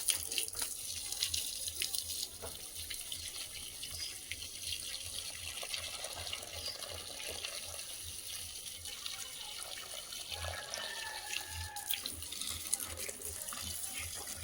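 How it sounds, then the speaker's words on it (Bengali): Water running from a hose pipe into indoor plant pots, a soft continuous splashing flow with faint background noise, fairly quiet throughout. "আর এবার আমি ঘরের ভিতরে যত টপে আছে জল দেবো"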